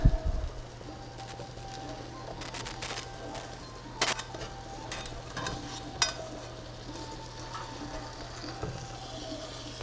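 Pieces of cabbage omelette frying in oil in a pan give a faint steady sizzle, broken by scattered light clicks and taps of a utensil against the pan.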